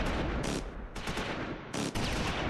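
Dense gunfire and machine-gun bursts from a WWII forest battle in the Close Combat IV strategy game, loud and continuous with repeated sharp volleys over a constant roar.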